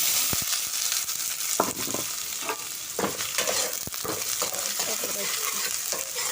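Onion fries in a kadai with cardamom, mustard seeds, a bay leaf, two dried chillies and curry leaves for a Konkan cashew usal, giving a constant hissing sizzle broken by scattered clicks and scrapes of stirring.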